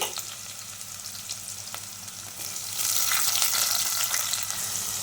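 Curry leaves, fenugreek seeds and onions hitting hot oil for fish curry, a bright close sizzle that swells louder partway through with stirring scrapes and no talk.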